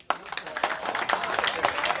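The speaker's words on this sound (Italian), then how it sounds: "gli facciamo lo stesso l'applauso" An audience applauds at the presentation of the Riccione football team, a steady moderate clapping from a crowd that starts abruptly and carries on.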